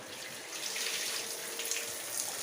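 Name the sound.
washing peeled vegetable stems in water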